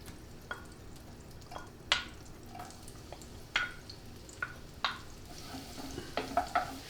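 Garlic fries gently in melted butter over a lowered gas flame for shrimp oreganata, a soft low sizzle broken by light spoon clicks and taps against the pan.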